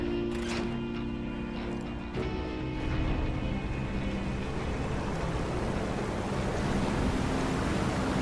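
Water rushing away through a sewer channel in Final Fantasy VII Remake, a steady broad wash like surf with a few faint tonal game sounds at the start, continuous and moderately loud with no talk.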